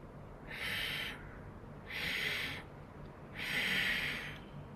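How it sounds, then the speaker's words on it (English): Three long, steady yogic ujjayi inhales during a breathwork practice, each a hissing, airy rush lasting about a second, close and fairly loud, separated by short quiet gaps. "Ujjayi, inhale."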